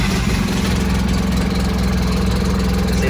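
A Polaris ATV with its check engine light on and a faulty front differential idles loudly and close by, a steady throbbing chug with no speech.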